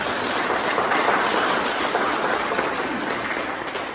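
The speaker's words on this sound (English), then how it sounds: "Could that be served with a round of applause?" An audience at a Vallejo town hall meeting applauds with dense, steady clapping that fills the whole stretch and tapers slightly at the end.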